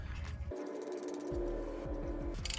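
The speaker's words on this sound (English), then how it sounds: "tighten with a ratchet, and finish with a torque wrench to 51 foot-pounds" A ratchet tightens the manual transmission drain plug on a 2017 Subaru, giving a steady run of close, crisp metallic clicks in quick rhythmic bursts with no talk.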